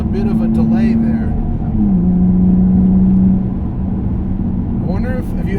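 An Infiniti G35 Coupe engine revs up under acceleration, holds a steady drone, then drops in pitch and settles as the throttle lifts into engine braking, loud and close from inside the car, with people talking over it.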